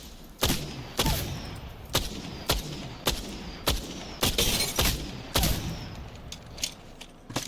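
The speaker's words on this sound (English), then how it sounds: "triple take is back in the care pack. Shoots super fast." Triple Take rifle firing in the video game Apex Legends, with about a dozen sharp, loud shots spaced evenly in a steady rhythm, each one a crisp crack with a short tail and no voices.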